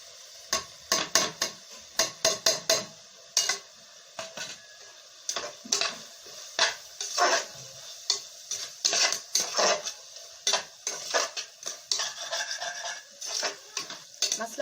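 Tomato rice masala is sautéed in a pan over medium flame, with a close, steady series of scraping spatula strokes and stirring rubs and no talking.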